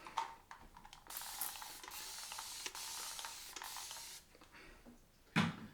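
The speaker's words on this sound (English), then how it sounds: "spray some more water" Several bursts of fine misty hissing from a hand spray bottle misting water during a straight-razor shave, loud and close, with one long sustained spray and a short sharp squirt at the end.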